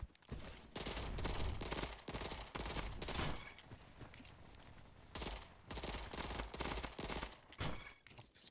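Pistol gunfire in the online shooter Bad Business, loud rapid bursts of shots with short pauses between volleys, joined by other gunfire, with no talking.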